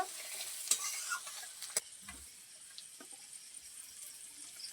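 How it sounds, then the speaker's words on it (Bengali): Turmeric powder stirred into a frying mixture in a village-style Bengali kitchen, a faint sizzle under soft scraping stirs, with a few sharper clinks early on and no talking. "হলুদ গুঁড়ো দিয়ে একটু নাড়িয়ে নেব"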